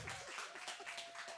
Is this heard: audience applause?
yes